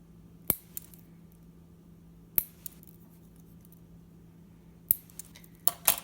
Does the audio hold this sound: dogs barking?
no